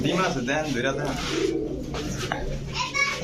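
Pigeons coo in a low, repeated murmur at a pigeon seller's, silver running pairs kept together, with children's voices and chatter continuing over the cooing throughout.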